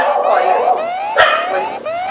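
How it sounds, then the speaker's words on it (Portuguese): Dogs barking in a film scene, a few yips and a whimpering bark over a strained, rising whine, heard fairly close and loud amid other soundtrack noise. "Os cachorros estão latindo."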